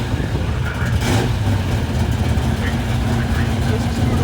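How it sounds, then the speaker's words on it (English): An original 1969 Camaro Z28 built for NHRA Stock Eliminator drag racing idles steadily through its mufflers, giving a low, even rumble close by with a faint voice over it. "This is the sound with the mufflers."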